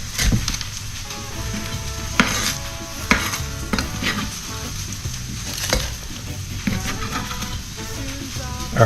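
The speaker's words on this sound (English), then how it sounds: "Our onions and garlic are sizzling away, and shallots over there." Onions, garlic and shallots sizzle in a hot pan while chilies rehydrate in stock for mole negro, a steady close frying hiss broken by spoon stirs and scrapes and light pan clatter, with no talk.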